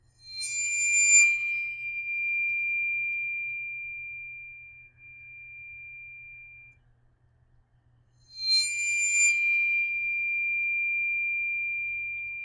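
A disc bowed with a bow rings out twice in a quiet room, each time a bright scraping attack blooming into a long, pure, sustained tone that slowly fades.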